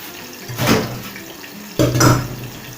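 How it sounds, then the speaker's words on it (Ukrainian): A steady sizzling hiss from eggplant frying in a pan, with two louder clattering scrapes as it is stirred. "Перемішаю і хай ще смажиться, щоб водичка трохи випарувалась"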